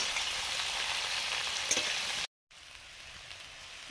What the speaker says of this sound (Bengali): কাঁকড়ার দাঁড়া, একটাই কাঁকড়া, এর জন্য এই আলুর সঙ্গেই ভেজে নিচ্ছি।